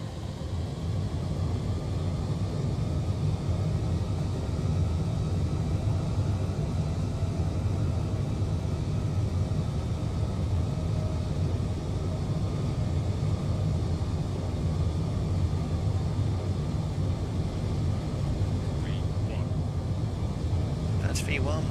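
Boeing 787-10 engines spooling at takeoff thrust in Microsoft Flight Simulator 2020, a steady low roaring rumble that holds throughout, with a voice talking over it at times.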